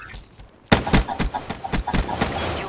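Rapid bursts of automatic gunfire from a video game shooter, a run of loud sharp shots in quick succession following a quieter lead-in.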